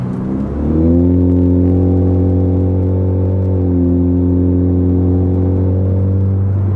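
A loud, steady engine drone from close by on a 2013 Ford Fusion Titanium with the muffler removed, rising in pitch after a brief low start, then holding a strong, throaty rumble with no talking.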